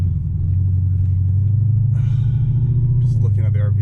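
An Infiniti Q45 rolling along a rough, badly surfaced industrial street, a steady low droning rumble from inside the cabin, with someone talking over it.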